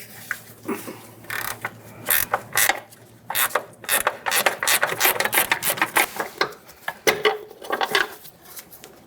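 A ratchet with a 13mm socket loosens the upper control arm mounting bolts on a 2006–2012 Ford Fusion. Rapid, loud clicking comes in repeated bursts, close and clear, with metallic rattles between the strokes and no talking.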